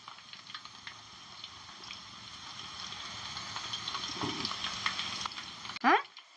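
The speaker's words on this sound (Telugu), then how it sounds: "కాకరకాయ ముక్కలు ఇట్లనే వేపుకోవాలి" Pieces of bitter gourd fry in hot oil for pickle, giving a steady soft sizzle across the whole stretch, with a brief louder scrape or stir near the end.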